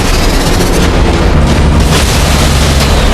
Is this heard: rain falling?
no